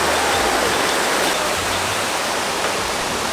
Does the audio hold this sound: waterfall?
yes